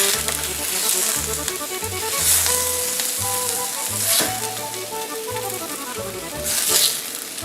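Browned homemade meatballs sizzle loudly as they drop into marinara sauce, a steady crackling fry hiss with occasional sharper spits and faint tonal sounds behind it.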